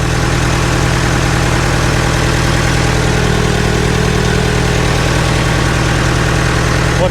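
An old forklift engine idles close by with a loud, steady low chugging pulse, even and uninterrupted throughout.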